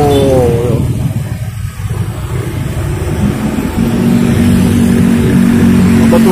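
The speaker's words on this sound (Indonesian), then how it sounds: "Motor-motor yang berlalu lalang." Cars and motorcycles pass along a city street at night, a steady loud engine rumble with revving bikes moving by close, and a sustained engine drone near the end.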